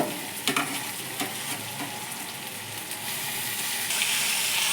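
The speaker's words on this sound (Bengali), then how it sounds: "আবার একটু কষবো।" Mutton sautéing in a pan with garlic and onion, a steady close sizzle and frying hiss with a few stirring scrapes, rising slightly toward the end, no talk.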